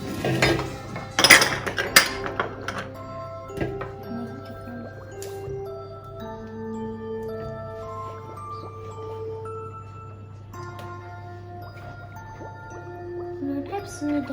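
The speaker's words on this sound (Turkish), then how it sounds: "Şimdi kek kalıbına dökelim bunu." Thick cake batter drips and squishes into a floured cake mold, with clinks of a utensil against the pan at the start, then quieter plopping over a low steady hum.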